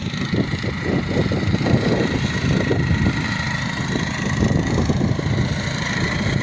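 A mini-tractor mower cutting hay runs steadily throughout, its engine a continuous mid-pitched rumble with a rough, vibrating texture, fairly close and loud with no talk over it.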